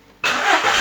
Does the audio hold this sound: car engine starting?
yes